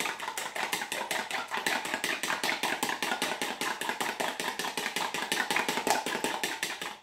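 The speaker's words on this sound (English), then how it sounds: "So whisk your eggs" Eggs for a quiche Lorraine beaten by hand in a bowl, a fast steady run of light rhythmic clicks and taps continuing without pause, close and fairly loud, with no talking.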